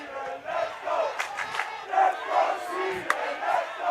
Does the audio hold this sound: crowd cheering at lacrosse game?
yes